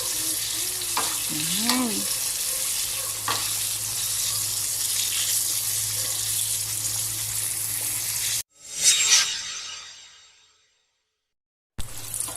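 Food frying in a pan with a strong continuous sizzle and occasional clatter, cutting off abruptly near the end before a short burst of noise, with a brief spoken word.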